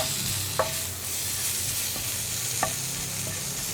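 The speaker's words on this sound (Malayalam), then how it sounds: "മുരിങ്ങയില ചേർത്ത് കഴിയുമ്പോൾ ഫ്ലെയിം കൂട്ടി വയ്ക്കാം" Drumstick leaves stir-fried in a pan for a thoran make a continuous bright sizzle. A few sharp clinks and scrapes from stirring stand out above it, close and clear, with no voices.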